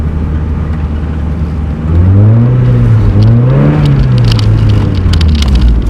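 A Mazda Miata spins its wheels on a slippery parking lot, the engine rising into a loud rev with a wavering pitch and a whirring tire-spin roar, sitting close and steady over a low rumble.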